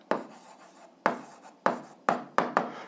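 A pen writes out an algebra answer on paper in five or six quick, close strokes, each a sharp scratch that fades, spaced unevenly with short gaps between.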